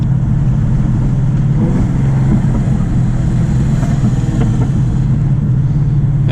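A cammed Dodge Challenger Scat Pack rumbles steadily from inside the cabin while driving, its low, loud exhaust drone continuous throughout with a few faint burbling pops.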